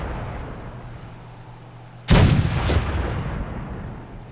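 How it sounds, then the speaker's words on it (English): A single booming ship cannon shot aboard the U.S.S. Quincy in modded Fallout 4 bursts out midway after a quiet stretch, its heavy report rolling and decaying over the following seconds. "These cannons also actually make sound"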